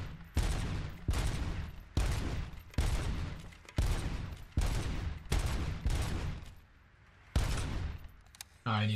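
Heavy gunfire at a gun range in the video game Robocop: Rogue City, loud repeated bursts of shots in quick succession with brief gaps between volleys and a short pause near the end.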